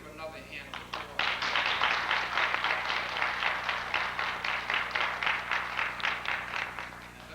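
Audience at a 1989 community conference breaks into clapping after a brief lull, a moderate patter of many hands that settles into rhythmic individual claps, heard from a distance in a room.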